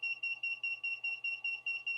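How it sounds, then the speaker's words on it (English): A 3D printer mainboard, newly fitted MKS SGenL V2 32-bit board, sounds a rapid repeating high-pitched alarm beep after power-up, pulsing about five times a second, steady and moderately loud with no talking. "It's beeping like crazy."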